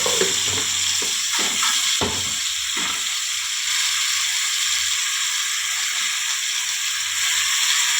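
Boiled eggs fry in hot oil in a pan with a loud, steady sizzle throughout, marked by a few scraping stirs and knocks early on.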